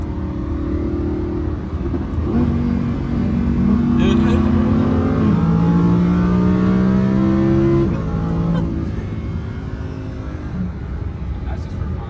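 A Lamborghini engine revs and climbs in pitch, drops briefly as it downshifts, then pulls again in a loud, sustained roar beneath people talking inside the car.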